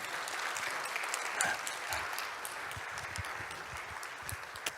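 Church congregation applauding together at the close of a revival service sermon, a steady, dense wash of hand clapping filling the room without a break, moderately loud and fairly close.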